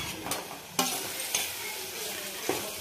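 Potato pieces are stirred into a frying tomato masala for a fasting meal, giving a soft continuous sizzle broken by three or four sharp scraping clacks of the spoon against the pan, close and fairly quiet.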